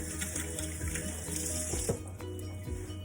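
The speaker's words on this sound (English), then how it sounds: "Wash my hands, wash my hands." Tap water running into a kitchen sink while hands are washed, steady close splashing stream with a faint hum beneath, no talk.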